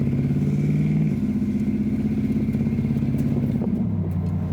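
A vehicle engine running steadily and loud, its pitch stepping down abruptly twice as the automatic transmission shifts through the gears, with light mechanical clatter throughout.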